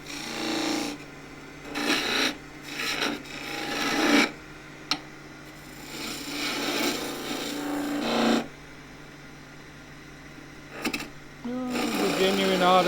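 A skew chisel cuts a wooden skittle spinning on a lathe and catches. Choppy bursts of rasping cuts are broken by pauses, with one sharp knock partway through, and someone talks in between.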